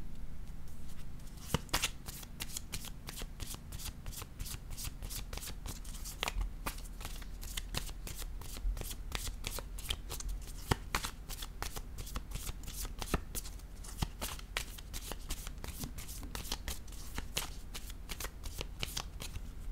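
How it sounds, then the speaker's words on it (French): Oracle cards riffled and shuffled by hand in a steady run of crisp, rapid flicks and snaps, close and clear for the whole stretch with a low background hum. "je vais piger une autre carte ici"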